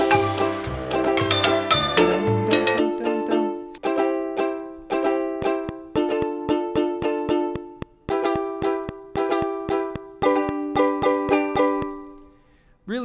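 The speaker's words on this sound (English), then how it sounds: "So let's take a listen to these ukulele strums." Sampled ukulele playing quick alternating down and up strums of bright plucked chords, rhythmic and close, with brief gaps between strummed phrases and no voices.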